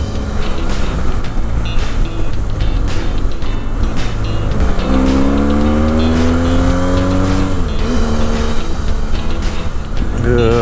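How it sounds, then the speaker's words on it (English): Continuous road noise from a motorbike moving through morning traffic, with a steady engine hum and a rising whine of another vehicle passing close by. "Morning traffic."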